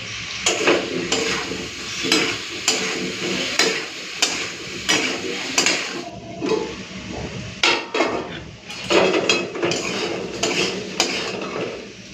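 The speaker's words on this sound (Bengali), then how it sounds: "এবারে মশলাটাকে কষতে থাকবো যতক্ষণ না ভালো মতো কষা হচ্ছে।" Masala with chilli powder and tomato being stirred and fried in a pan: loud, repeated metal scraping and clinking strokes in a quick irregular rhythm over a constant sizzle, close by with no talking.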